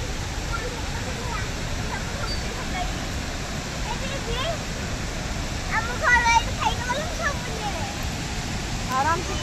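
Turbulent water rushes steadily beneath the Rengali bridge, a dense continuous roar with people talking and calling out over it.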